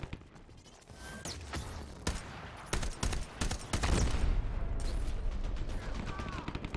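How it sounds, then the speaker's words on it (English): Rhino's minigun firing in the shooter game Dirty Bomb, a dense run of gunfire with broadband bursts that builds into sustained rattling over the second half, loud and close. "Got like a minigun."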